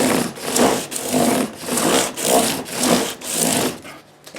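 A Gibson SG Standard guitar body is sanded by hand with 600-grit sandpaper: about eight rhythmic back-and-forth rubbing strokes, close and fairly loud, then a brief pause.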